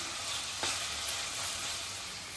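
Tomato masala sizzles and fries in a pan for a bhendi fry masala, a continuous, fairly quiet crackling hiss with a couple of brief stirring scrapes and no voices.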